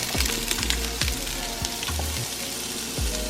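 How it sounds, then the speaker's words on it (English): Vegetables sautéing in hot oil for pepper steak, a steady close sizzle broken by repeated stirring knocks and scrapes in the pan. "So now the oil should be nice and hot, so let's go ahead and add our veggies."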